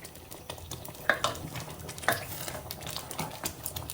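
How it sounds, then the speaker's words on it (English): Ogbono soup is stirred in a pot while it melts, a soft repeated scraping with two sharper clinks of a spoon against the pot over a low simmering hiss. "I'll mix this until the ogbono has been melted"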